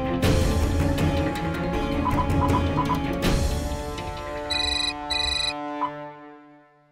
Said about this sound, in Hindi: एक काम करो, जस्टिस बलसारा को फोन लगाओ।